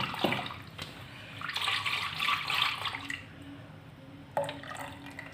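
Water splashes and runs in short bursts onto ground chickpeas, with a brief sharp drip or clink near the end, fairly close and with no voices.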